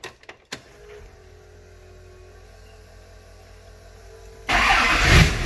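A rebuilt Duramax diesel truck engine sits silent after a few clicks and thumps, then a loud burst of starting noise rises sharply near the end and carries on rough and close.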